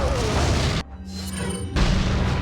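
A bomb blast in the Resident Evil 4 video game, a loud booming roar that cuts off abruptly, leaving a hollow ringing lull before the heavy rumble returns.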